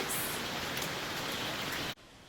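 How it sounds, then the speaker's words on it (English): A home-made rain stick is shaken, giving a steady, dense hiss of trickling grains that cuts off abruptly near the end. "The rain stick is a musical instrument from the Americas who was designed to mimic the sound of the rainforest"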